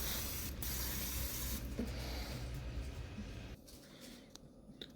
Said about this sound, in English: This is a WD-40 degreaser.